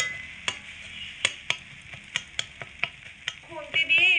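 Egg is stir-fried in a pan and broken into crumbly bits. A soft sizzle runs under a string of crisp spatula taps, about two a second, and a brief tonal squeal comes near the end.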